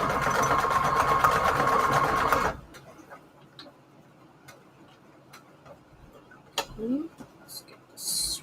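A sewing machine stitching fabric ruffles onto index cards runs in a fast, steady whir for about two seconds, then stops, leaving faint clicks, handling noises and brief soft voices.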